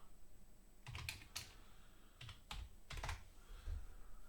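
Typing on a computer keyboard while entering a search for recent card sales, with quiet, irregular clusters of key clicks separated by short pauses and no talking.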